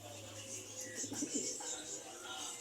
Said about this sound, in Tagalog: Mga ibon niya guys.